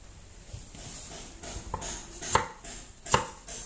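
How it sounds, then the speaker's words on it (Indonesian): Knife chopping tofu and young corn on a cutting board for vegetable lodeh, a handful of separate dull thuds with two sharper, louder strikes near the end, close by. "sekarang saya mau potong-potong dulu ya ini tahu sama jagung mudanya"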